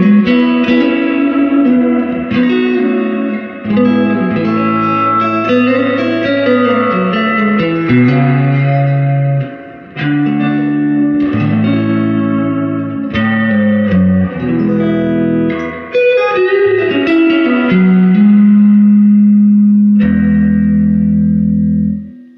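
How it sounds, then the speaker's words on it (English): Guitar played through an original 1964 Fender Vibroverb amp with the spring reverb cranked to 10, a series of loud strummed chords and phrases each trailing into a long, washy reverberant tail, no talking. "On that reverb, you can go all the way up to 10."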